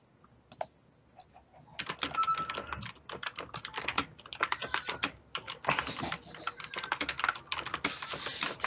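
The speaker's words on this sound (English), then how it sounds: "That's some intense typing." Fast, heavy typing on a computer keyboard, a dense close flurry of loud clattering keystrokes with short pauses, continuing for several seconds without talk.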